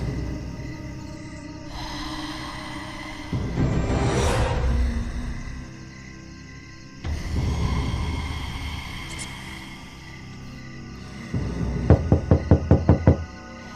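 A door is banged loudly in a rapid burst of about seven heavy knocks near the end, after stretches of eerie whooshing night ambience.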